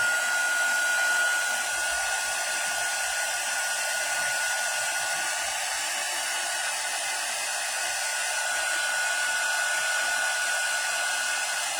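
Heat tool blowing continuously to heat-set paint on a craft album, a steady close hiss and whir that holds without a break throughout.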